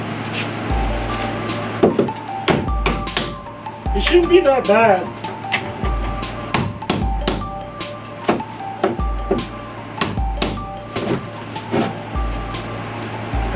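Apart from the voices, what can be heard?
claw hammer prying nails out of a wooden crate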